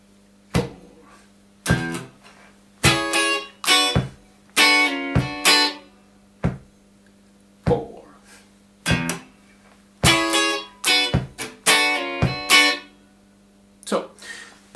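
Electric guitar playing a riff variation: short choppy funk strums and muted stabs in a syncopated rhythm, close and clean over a faint steady hum.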